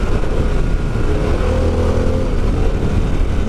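A Harley-Davidson Pan America motorcycle rides along a curvy road, its mid-pitched engine droning steadily and loudly with wind roar throughout, no voices over it.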